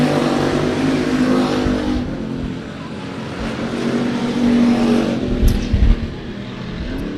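Race cars circle the oval at I-37 Speedway in Texas during a regular race program, engines droning loudly throughout and swelling as one passes close near the end.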